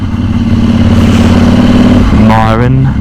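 KTM motorcycle engine, likely a 1290 Adventure, running loud and close with a steady low droning note that shifts pitch near the end, with a voice talking over it.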